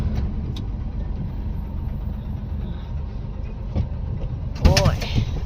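A farm tractor's engine idles with a steady low rumble close by in the open, while voices talk over it and a sharp clank breaks in near the end.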